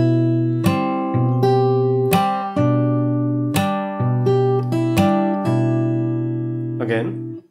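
An acoustic guitar plays a fingerstyle passage of a song, close up, with a steady run of plucked notes over ringing bass strings and a brief string squeak near the end.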